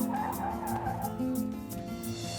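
A car brakes hard to a stop, its tires skidding and squealing in one continuous smear, with a steady tonal backdrop that sounds like music running underneath.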